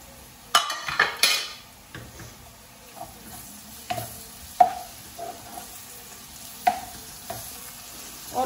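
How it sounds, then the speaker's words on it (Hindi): Browned onions and ginger paste sautéed in a pan for mutton liver: a soft, steady sizzle broken by scattered scrapes and taps of a stirring spoon, with a quick burst of clatter near the start, close by and without talk. "इसके साथ ही मैं अदरक डाल के जिंजर का पेस्ट तो इसको भून लूंगी"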